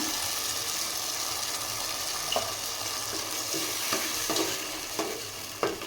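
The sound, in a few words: onion cashew paste frying in pan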